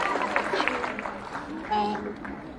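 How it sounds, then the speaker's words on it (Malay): A seated audience at an ustazah's talk on handling stress breaks into moderate, steady applause, a scattered clapping wash with a speaking voice over it. "bagi tepukan"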